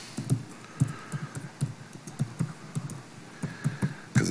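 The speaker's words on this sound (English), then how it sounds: "let's see how many times it takes me to type in my password." Someone types a password on a computer keyboard, a quick uneven run of soft key clicks in bursts with brief pauses, close and fairly quiet in an indoor room.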